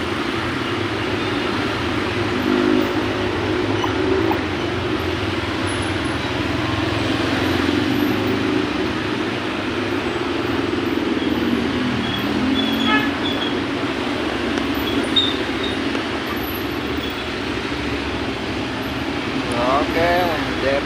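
Heavy morning rush-hour traffic on a congested road in Depok, Indonesia, a steady broadband roar of idling and crawling vehicles with occasional horn toots, continuous and fairly loud throughout.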